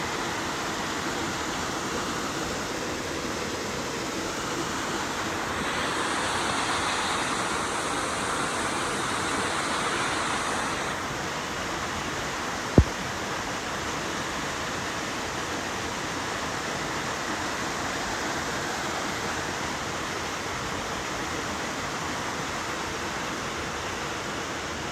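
Babarakanda waterfall, the highest in Sri Lanka, roars in a steady, dense rush of falling water that fills the whole scene without pause, with one sharp click partway through.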